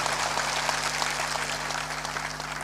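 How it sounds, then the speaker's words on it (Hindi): An audience at a satsang clapping steadily, a dense even patter of many hands close by that holds at a constant level throughout. "तालियां इतनी कमजोर क्यों बजाते हो?"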